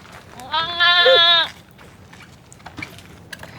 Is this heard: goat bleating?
yes